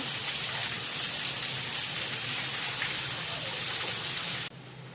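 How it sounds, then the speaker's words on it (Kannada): Heavy rain pours in a dense, continuous roar, loud and steady throughout, dropping off abruptly at the very end. "ಫುಲ್ಲು ಮಳೆ ಸ್ಟಾರ್ಟ್ ಆಗ್ಯದ ಸೌಂಡ್ ಕೇಳಿಸ್ಲತ್ತದ ಅನ್ಕೋತೀನಿ"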